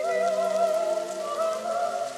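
Rain falls steadily in a night scene from the film Carlito's Way, a soft wash heard beneath a sustained, melodic operatic duet that dominates throughout.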